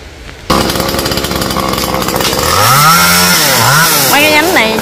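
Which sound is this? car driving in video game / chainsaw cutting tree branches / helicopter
chainsaw cutting tree branches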